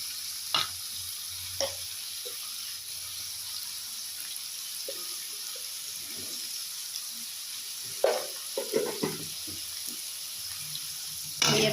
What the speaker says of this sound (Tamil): இப்போ வெங்காயம் ஓரளவுக்கு வதங்கின உடனே நம்ம தக்காளி போட்டு வதக்கிக்கலாம்